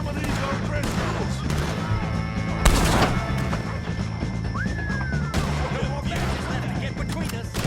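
Gunfire in a shootout against O'Driscoll gang members in Red Dead Redemption 2, with repeated shots and a louder crack partway through, set against steady game music and battle noise, with voices present.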